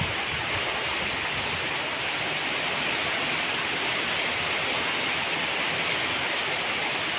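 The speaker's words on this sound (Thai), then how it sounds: "นั่งฟังเสียงฝนตกพี่น้อง" Steady, heavy rain pours down without pause in Huai Prap, Rayong, a dense continuous hiss filling the space.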